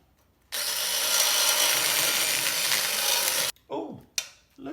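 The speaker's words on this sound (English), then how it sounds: "let's try to ream it out." A bunghole being reamed out with a tool, a steady grinding rasp lasting about three seconds, loud and close, followed by a few short scraping bursts.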